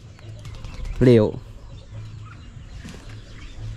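In a rural yard with a newly built chicken coop, one short, loud chicken call rises sharply near the start, then fainter bird chirps and a brief spoken word come over a low background hum.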